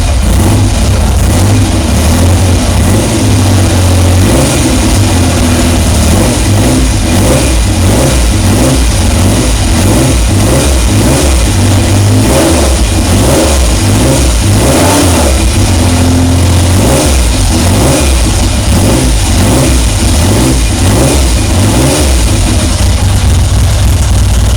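A Triumph Trident T160 motorcycle engine fires up on full choke in a cold basement and is revved repeatedly, its loud, close exhaust rising and falling over a steady rumbling idle throughout.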